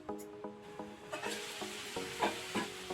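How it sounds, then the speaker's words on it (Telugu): Rhythmic scraping strokes of a spoon against a pan, roughly every third of a second, while cauliflower curry is stirred with spice powders and coriander, quiet and close, with no talking. "పుట్నాల పప్పుల పొడి ధనియా పౌడర్ కొత్తిమీర అంత బాగా కలిసే విధంగా కలపాలా"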